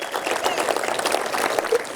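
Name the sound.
audience applause at appreciation dinner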